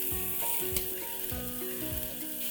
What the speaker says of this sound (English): And now just add a kilo of mutton to this.